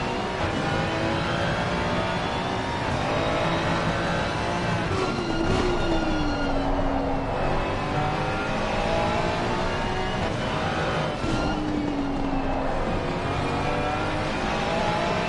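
Race cars roar continuously around the Nordschleife in a racing game, with a Ferrari and a Lamborghini running close together. The engines drone loud and steady, and two rising-and-falling pitch sweeps mark shifts or cars passing.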